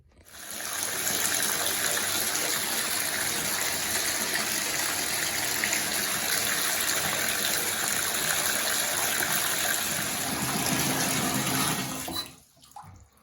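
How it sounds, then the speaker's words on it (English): Tap water gushes steadily into a sink during a drain-clog test with a gel drain cleaner, a loud, constant rushing pour lasting about twelve seconds before cutting off abruptly. "we're gonna turn the water on, and I'm gonna time and see how long it takes before it fills up"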